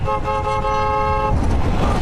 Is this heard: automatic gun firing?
no